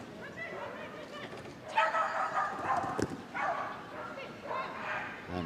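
A Hungarian Mudi barks repeatedly in a noisy show hall at Crufts, sharp yaps in bursts over crowd murmur and a commentator's voice.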